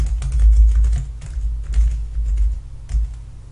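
Steady, fast keyboard typing with clustered clicks and brief pauses, close and fairly loud, with no voices.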